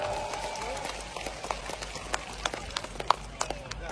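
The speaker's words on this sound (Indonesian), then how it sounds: "Buat relawan semua, tepuk tangan yang meriah" Lively applause from volunteers at an outdoor political rally in Aceh, a dense patter of crowd clapping with sharper individual claps popping out, under general crowd noise and voices.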